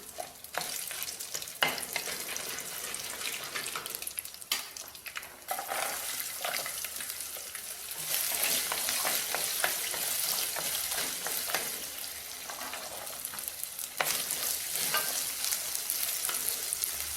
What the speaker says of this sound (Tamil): அதனால் நல்லா ப்ரௌன் கலர் வர்ற வரைக்கும் நல்லா வதக்குங்க.